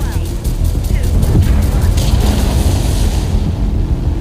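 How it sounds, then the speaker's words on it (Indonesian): A bomb explodes and destroys a laboratory in a film about Soviet-experiment mutants: a loud, sustained low rumbling boom with debris-like crackle, steady for several seconds and heard alone without talk. "dijatuhkannya bom yang akan menghancurkan lab tersebut"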